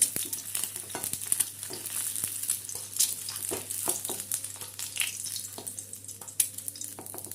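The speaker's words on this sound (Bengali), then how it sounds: "দেখুন, ডিমগুলো হালকা সোনালি করে ভেজে নিলাম। এবার ডিমগুলোকে তুলে নেব।" Eggs frying in hot oil in a pan until lightly golden, then lifted out; a steady close sizzle with scattered clicks and scrapes of a utensil, no talking.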